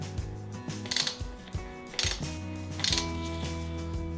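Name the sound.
torque nut driver tightening pipe coupler clamp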